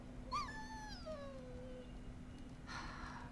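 Warhound dog in the video game Dragon Age: Origins giving a single drawn-out whine that slides downward, quiet against a low background hum, followed by a faint rustle.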